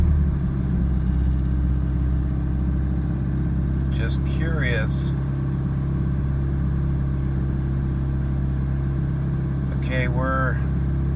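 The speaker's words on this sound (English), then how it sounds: "Got your high idle. Typical. Let it run for a minute." A Pontiac Fiero engine running at high idle, a steady loud low rumble throughout, with a person briefly talking over it twice.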